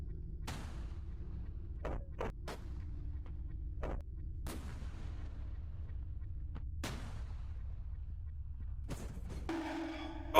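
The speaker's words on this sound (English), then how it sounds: "Turrets are shooting those" Turrets fire in SCP: Invasion, a video game, as sharp, separate booming shots spaced a second or two apart over a low steady rumble, with a brief burst of noise right at the end.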